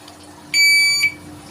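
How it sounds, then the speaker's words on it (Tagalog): A range officer's shot timer at a shooting range sounds a single loud, steady electronic beep lasting about half a second, close and clear over a faint background hum. "may sarili akong timer para kapag magre-range officer ako"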